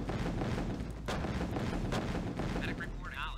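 Continuous gunfire and artillery booms in Command and Conquer: Tiberian Sun, a dense steady barrage throughout with occasional sharper blasts and some game chatter.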